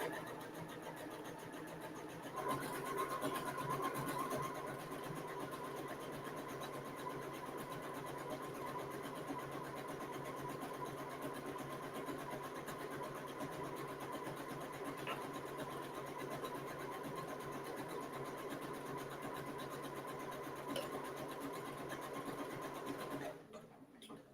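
A sewing machine stitches fabric for a wrap skirt, its steady mechanical whir running continuously at moderate level for most of the stretch, with a voice talking faintly underneath.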